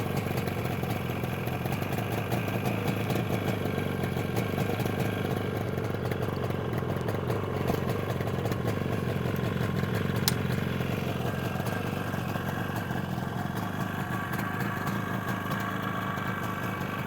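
A 1973 Yamaha RD350 motorcycle idles after a cold start, its engine running in a steady, fairly loud, uneven putter throughout with no talking.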